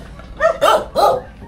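Dog barking close by in a rural Filipino yard, three short sharp barks in quick succession, loud and alone.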